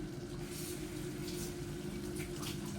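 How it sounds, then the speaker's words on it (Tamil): Water pouring into a simmering pot of garlic and curry leaf vatha kuzhambu, a steady close rush and gurgle of liquid that continues evenly throughout with no voices. "இதில் கொஞ்சம் தண்ணி ஆட் பண்ணிக்கலாம்."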